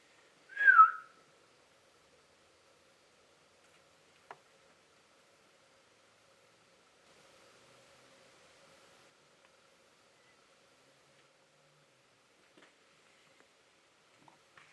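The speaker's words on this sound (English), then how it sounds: "Did you just hear that whistle?" A single short, bright whistle near the start, sliding downward in pitch, followed by near silence with a faint tick and soft rustling, inside an old sanatorium.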